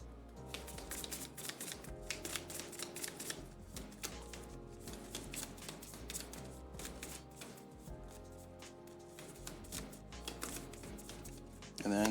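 A deck of playing cards from the World Order board game is shuffled repeatedly, giving a close, continuous riffling and flicking that runs the whole time with no talking.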